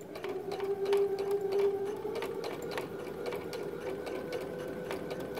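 A sewing machine stitches fabric for a fursuit handpaw, running in a steady continuous whir with a rapid needle rhythm, fairly close and alone with no talk.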